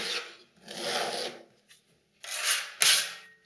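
Smoothing blades of 45 and 25 cm spread filler plaster across a ceiling in long rasping scrapes, several separate passes with short pauses between, close and fairly loud.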